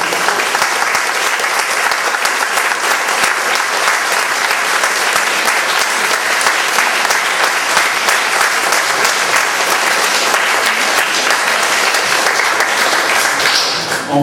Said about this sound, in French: je pense qu'on peut vraiment les applaudir et les remercier